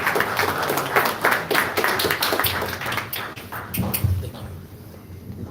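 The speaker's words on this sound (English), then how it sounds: "Another huge round of applause for His Grace Krishna Prabhu" Applause from an audience after a spiritual class: scattered, close clapping that builds briefly and tapers off, with a voice speaking over it.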